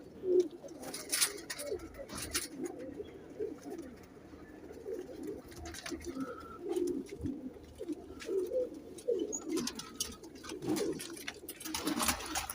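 Colored pigeons kept in a loft coo repeatedly in low, throaty rolling calls, several birds overlapping at close range, with scattered wing flutters and scuffling and no talk.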